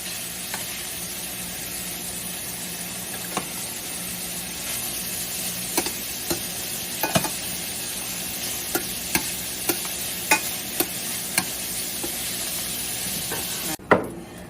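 Steak pieces browning in a hot pan for pepper steak, a dense continuous sizzle with occasional sharp ticks and spatters, close and fairly loud, with no talking.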